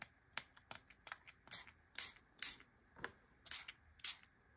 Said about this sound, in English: So let me go ahead and spray this and show you what happens.